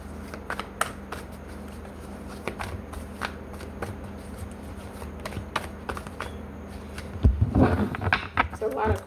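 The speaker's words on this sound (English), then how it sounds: "It's a lot of cards, so just give me a second when I try to shuffle" A large deck of cards being shuffled in repeated riffling bursts, close and moderately loud, with a louder shuffle near the end.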